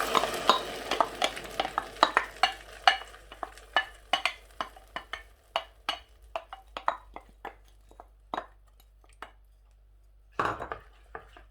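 Soaked red lentils are stirred into half-browned garlic and frying onions in a pan, giving a rapid run of scraping spoon strokes over a soft sizzle, thinning out toward the end with one louder clatter near the close.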